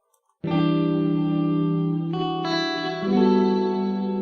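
A sustained, shimmering chord from an audio plugin with a reverb effect blooms suddenly and holds, its bright upper layers shifting and swelling, alone and fairly loud.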